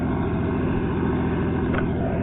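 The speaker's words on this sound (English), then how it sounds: "here's the helicopter." Helicopter engine and rotor droning steadily at close range, loud and continuous with a low thrumming rumble and no talk.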